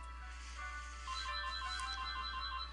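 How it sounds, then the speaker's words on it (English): A telephone rings in a game scene, an electronic tone with steady pitched pulses running through a faint, quiet stretch over a low background hum, with no voices. "Now the phone's ringing."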